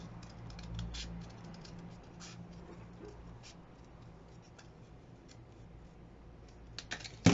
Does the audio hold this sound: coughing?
no